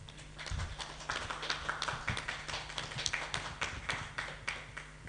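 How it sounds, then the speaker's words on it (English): Applause for a presenter at an online webinar, a faint patter of several people clapping steadily for about five seconds, no talk over it. "Big round of applause for Mr."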